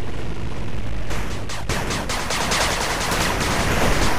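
Machine gun fire in the 8-bit Armies strategy game attacking a turret, a dense continuous crackle of shots mixed with battle noise, loud and steady throughout.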